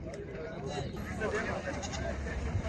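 Small lambs bleat at a sheep and goat livestock market in Mashtaga, Azerbaijan, a few faint wavering calls rising above steady crowd chatter and people talking nearby.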